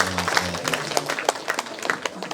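Audience applause at an official ceremony in Lampung, where a provincial governor inaugurates a free nutritious meal program; steady clapping from a crowd, fairly close, with a voice over the public address system at the start.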